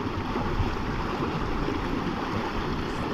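Steady broadband rush of water running through a wild creek at a swimming hole near a crossing, continuous and fairly close with no voices over it.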